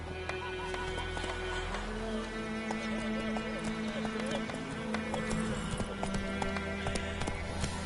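Horse hooves clip-clopping in The Witcher 3 as Roach trots, a steady rhythmic stream of hoof beats over game music and ambience, with someone speaking at times.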